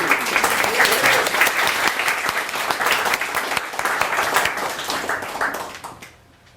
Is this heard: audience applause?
yes